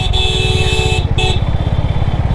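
A Honda H'ness CB350 motorcycle rides through traffic with a loud, steady, thumping engine pulse, and vehicle horns sound briefly and repeatedly around it.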